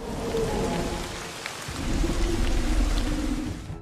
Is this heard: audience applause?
no